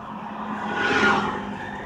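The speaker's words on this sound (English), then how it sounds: "Just I will start the vehicle." A car engine turning over and catching inside the vehicle during a driving lesson, a broad steady roar that swells near the middle and then settles into a constant hum.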